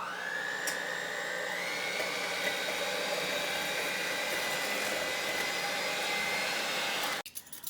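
Electric kitchen mixer beating a rice pudding mixture, a loud continuous whirring drone held steadily at close range and then cutting off near the end.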